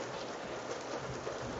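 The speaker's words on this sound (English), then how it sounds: "And why are you hearing rain on the background? Because I'm in my car and it's raining." Steady rain drums on the roof and windows of a car, a dense, even patter heard close and loud from inside the vehicle, with no talking.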